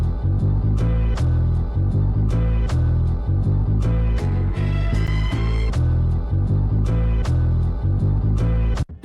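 A short chopped sample from a soul song loops for about nine seconds, with repeating phrases and strong bass, played loud and full with no talk over it.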